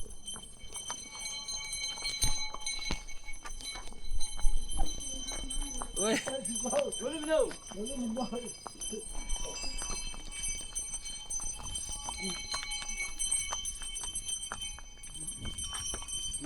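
Horse hooves clop along a mountain trail near Muktinath in Mustang, a loose rhythmic patter under a rider's voice, with a bell jingling and a short call from a person.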